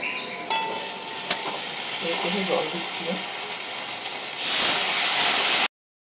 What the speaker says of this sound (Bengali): এবার কিন্তু সব মশলাগুলো আমি দিয়ে দিলাম এই মশলাগুলো ভেজে আমি একটু জল দিয়ে দেবো